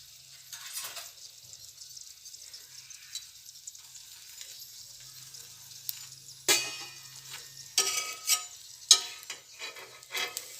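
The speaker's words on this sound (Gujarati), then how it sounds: "અને ધીમા ગેસ પર સરસ ક્રિસ્પી થાય ત્યાં સુધી થવા દઈશું." A flatbread snack crisping in a pan on a low flame, a soft quiet sizzle under scattered clicks and scrapes of a utensil, growing busier toward the end.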